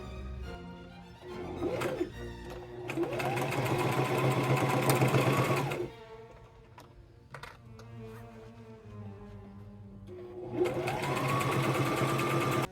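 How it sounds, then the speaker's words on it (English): A sewing machine stitches across the top of a makeup bag in two long close runs, with short pauses and soft clicks between them, loud and steady while running. "We're gonna sew across the top here."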